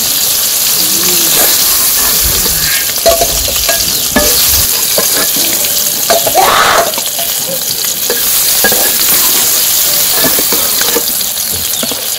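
Cumin, bay leaf and onion fry in a pan for a village-style dish, giving a loud, continuous sizzle and hiss with stirring scrapes and a brief steamy burst partway through, all close by.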